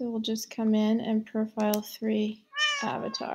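A house cat meows several times in quick succession, loud and close, its short harmonic calls interleaved with someone speaking.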